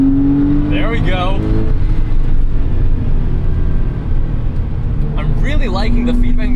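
A Porsche 911 993 Carrera S with its air-cooled rear engine accelerates, a loud steady engine drone that rises in pitch from inside the car while someone talks over it.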